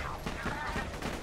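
Dense, steady gunfire from the video game Borderlands 2, with overlapping shots blending into a continuous loud clatter and a faint voice underneath.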